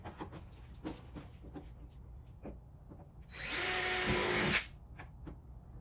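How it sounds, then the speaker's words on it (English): A power drill with a 1/8 bit bores a hole in an ABS front lip on a 2011-2016 BMW 5 Series F10 M Sport bumper, one loud sustained whir of about a second amid quiet tapping and handling noises. "I'm using a 1/8 drill bit, and I'm just gonna go ahead and drill these holes"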